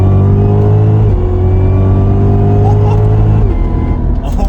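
A supercharged Cadillac CTS-V with a Roots blower and a dual-clutch transmission accelerates hard in third gear, its engine drone loud and close inside the car, with the pitch rising between two quick shifts and a voice faintly underneath.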